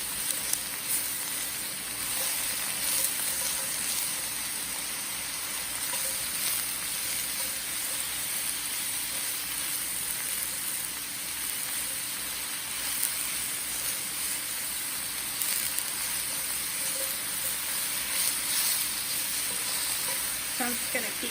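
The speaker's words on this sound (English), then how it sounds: "I'm going to saute these mushrooms" Mushrooms sautéing in olive oil in a pan, a steady close sizzle and crackle running throughout with occasional stirring, and a voice speaking over it.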